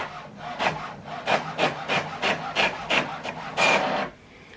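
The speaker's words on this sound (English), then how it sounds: "We are printing double-sided." An HP OfficeJet Pro printer running a double-sided job makes a close mechanical rhythm of repeated rasping feed strokes about twice a second, then falls quiet as the sheet finishes.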